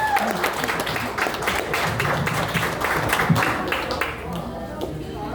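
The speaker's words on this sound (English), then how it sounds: "Give yourselves a big round of applause for that." A community meeting audience claps in a lively burst of separate hand claps at moderate volume. The applause fades out over the last second or so.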